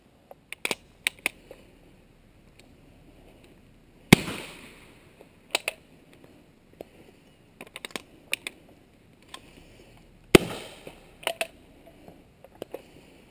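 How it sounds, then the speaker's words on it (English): A 37mm Havoc launcher fires smoke rounds: two sharp, loud blasts about six seconds apart, with scattered lighter clicks and handling noises in between. "Now the weapon is loaded and ready to fire once taken off safe."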